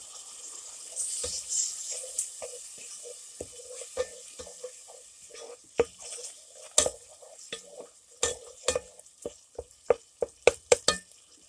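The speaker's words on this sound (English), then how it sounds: "I'm going to stir this a little bit, kind of get them seasonings bloomed" Seasonings and black pepper are stirred in a pan for a chicken broccoli bake, giving irregular scraping and tapping strikes over a faint sizzle, sparse at first and then quicker and sharper toward the end.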